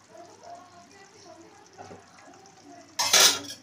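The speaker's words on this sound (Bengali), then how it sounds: "এখন আবার ঢাকাটা খুলছি" Lid lifted off a pot of hilsa fish curry with a sudden loud metallic clank and rattle near the end, after a quiet stretch of faint kitchen noise and soft murmuring.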